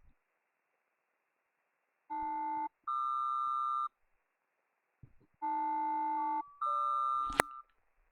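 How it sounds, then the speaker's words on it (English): Two-tone SELCAL chimes on an HF radio frequency during a VATSIM flight simulation: two pairs of steady electronic tones, each a short held note followed by a higher one, clean against silence, with a brief crackle at the end. "That's the tone you hear on the HF frequency when they send you the cell call."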